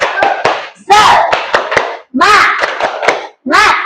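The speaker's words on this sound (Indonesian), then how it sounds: "marilah kita tepuk semangat dulu" A class of young children claps together in a rhythmic spirit clap, sharp hand claps in quick patterned bursts mixed with their chanting voices, close and loud in a primary school classroom.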